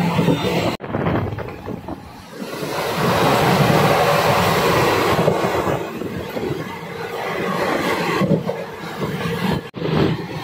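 A train speeds past close to a railway gate, a loud, continuous rushing roar that swells and holds for several seconds with brief dips at the start and end.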